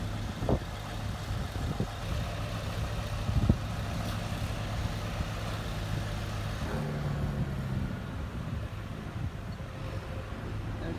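A John Deere tractor engine rumbles steadily at close range, holding a low droning tone with occasional knocks and some wind buffeting, and no one speaks over it.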